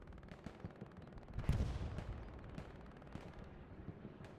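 Artillery fire in the game Hell Let Loose, with a deep heavy boom at the midpoint among scattered distant gunfire cracks and rumbling impacts, and no voices.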